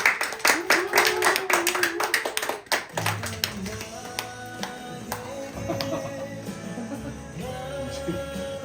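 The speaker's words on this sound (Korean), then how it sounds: "환영하는 마음으로 박수로 맞이하겠습니다" A church congregation at a Sunday worship service applauds to welcome a pastor, with dense rhythmic clapping that fades after about three seconds into quieter scattered claps, overlapping voices and musical tones.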